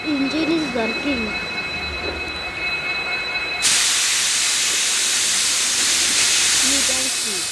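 Steam train engine in a train simulator video game, hissing and chuffing, then a loud steady burst of steam hiss that fills the second half, with quiet talk underneath early on.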